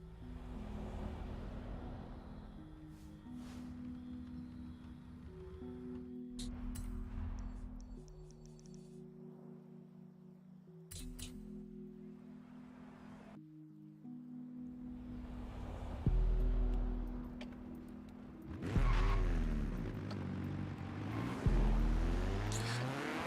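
A Caterham Superlight in the Forza Horizon 5 racing game revs through repeated gear changes, its engine note climbing and dropping in steps. The engine grows louder and harsher toward the end, with no talking over it.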